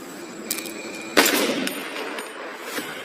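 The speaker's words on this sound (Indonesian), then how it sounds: "Miguel menembak anaknya." A gunshot in the 2018 film The Awakener, a single sharp crack over a thin background hiss, with a few fainter clanks and bangs around it.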